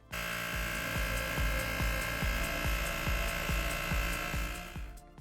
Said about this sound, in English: if you're wondering how loud the air pump is, I did do a test to see how loud it was